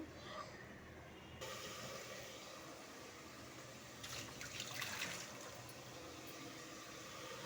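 Water pours from a glass in a soft, steady trickle onto rice and briefly swells louder midway, fairly quiet with no voices.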